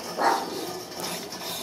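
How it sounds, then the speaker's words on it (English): A single muffled bark sounds early, somewhat distant, followed by quiet background noise. "Sorry about my dogs barking in the background."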